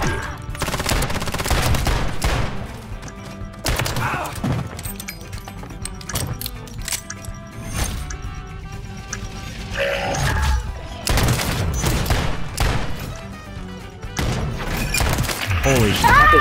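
Pistol gunfire in a first-person shooter match, with rapid bursts of shots and crashing impacts in a dense, loud game mix running throughout, with talking over it.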